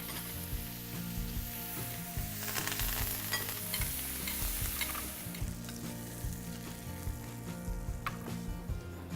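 Continuous loud sizzling of pork short ribs frying in a hot pan, with occasional scraping and stirring sounds.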